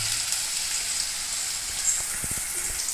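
Garlic and onion sauté in a pan for a spicy chutney, giving a steady close sizzle and crackle throughout, with a few soft stirring knocks near the end.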